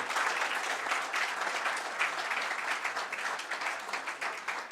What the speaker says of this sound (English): give them a round of applause for everything they have done as a team